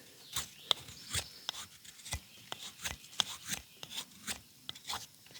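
Knife carving thin shavings from fat wood for a feather stick, a series of short, crisp scraping strokes repeating at an irregular pace, close and fairly quiet.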